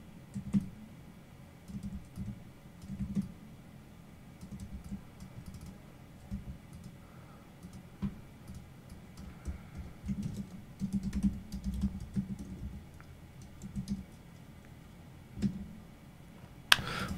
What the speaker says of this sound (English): First, let's type in just kitchens.